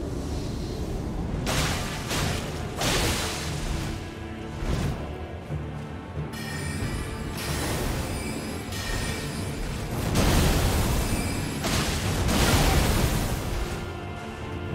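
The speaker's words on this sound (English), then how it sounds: "Big ass explosion." Repeated explosions in Elden Ring, several broad booming bursts of varying length over about fifteen seconds, the loudest near the end, over a continuous rumbling background.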